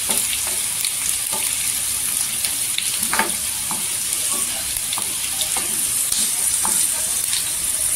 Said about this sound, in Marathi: इथे लसूण टाकून घ्यायचे। लसूण टाकल्याने ना छान अशी गोल्डन कलरवर करून घ्यायची लसणीला पण।